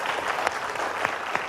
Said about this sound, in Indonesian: tepuk tangan dulu yang luar biasa yuk.